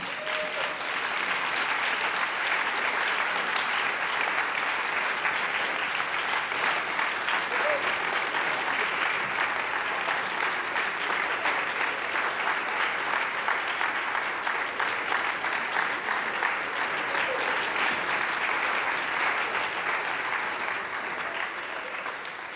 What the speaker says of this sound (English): Can we give another round of applause for Maytha and Sister Sonia?